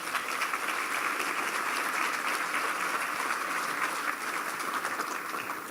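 Audience at a West Virginia business summit applauding steadily, a dense wash of clapping at a constant loud level with no talking.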